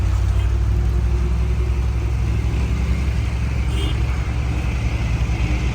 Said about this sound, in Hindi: ट्रैफिक जाम हो रही है और लंबी लाइनें यहाँ पे लगी हुई।